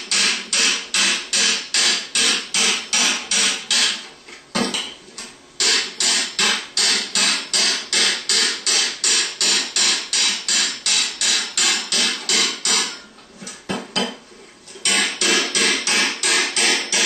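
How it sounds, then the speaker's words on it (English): A ball peen hammer taps on the front half of a Bosch alternator housing while it is being separated from the back half, striking in steady rapid runs of sharp metallic blows with two brief pauses. "tap on the front half with a ball peen hammer"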